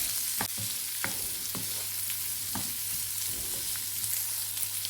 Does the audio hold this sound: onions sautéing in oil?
yes